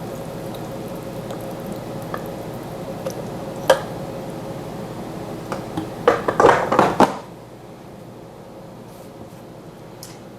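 Chunky fig salsa with tomatoes, tomatillos, garlic, cilantro, parsley and cucumber is poured into a bowl. After a few faint wet drips, a brief burst of close, squishy splats and plops comes near the end, then goes quiet.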